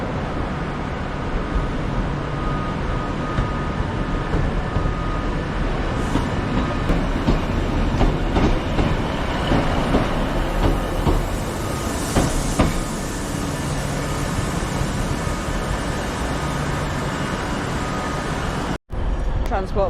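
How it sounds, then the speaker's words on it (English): Transport for Wales class 197 diesel train arriving at Manchester Piccadilly station, a steady rumble with rail clatter and platform ambience over about twenty seconds, ending in a brief dropout. "Transport for Wales class 197 approaching, sorry. Terminating in from Llandudno Junction."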